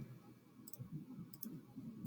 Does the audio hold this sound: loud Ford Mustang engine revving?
no